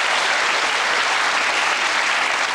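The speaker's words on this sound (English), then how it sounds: "You see, Boris, that's what clapping sounds like." Studio audience at a television panel show breaking into loud, sustained applause, dense clapping from a large crowd filling the whole stretch.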